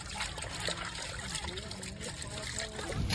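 Cut pieces of local country chicken being washed in water, a soft trickling and sloshing of liquid, fairly faint and steady, with low background sounds underneath.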